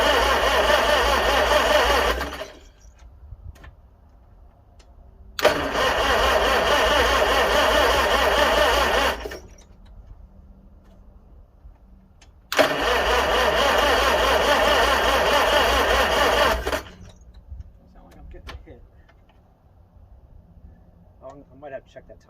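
A 1955 Farmall 300 RC tractor that sat unused for 14 years, with the choke pulled, is cranked in three long, loud mechanical bursts separated by quiet pauses.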